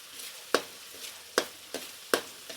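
Cauliflower masala for gobi manchurian fries in a pan under a soft, low sizzle, with four distinct spatula scrapes and knocks at a slow, uneven rhythm.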